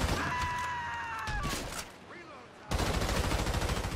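Gunfire in Grand Theft Auto Online, dense rapid bursts that cut off briefly and then resume as a loud continuous automatic rattle, with tonal game sounds layered underneath.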